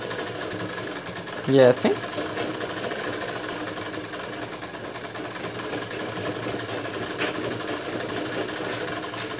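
A sewing machine runs steadily through a topstitching seam on soft blouse fabric, its low continuous whirr holding under a brief spoken remark and a sharp knock near the start.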